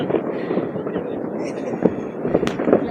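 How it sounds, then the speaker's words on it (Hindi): Firecrackers go off at midnight on New Year's Eve in Norway: a string of sharp pops and bangs, some distant and some closer, scattered irregularly over a constant background of voices and crowd noise. "12 बज गए इसलिए पटाखे तेज़ हो चुके हैं"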